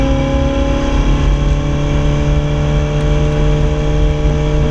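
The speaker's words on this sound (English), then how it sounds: "can you hear that burble now?" A Ferrari 488 Pista twin-turbo V8 with an Inconel exhaust gives a steady, loud rumble with a deep, throbbing idle burble that holds evenly throughout, close to the microphone.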